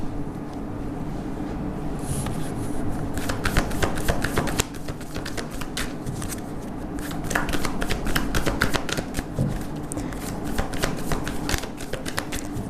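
Tarot cards being shuffled by hand: a continuous papery riffle and flutter of cards, close and fairly loud, with repeated crisp slaps over a steady room hum and no talk.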